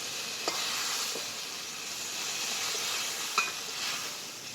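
Sliced ridge gourd sizzles in hot oil in a pan with a steady hiss, broken by a few soft spatula clinks and stirs; no one speaks.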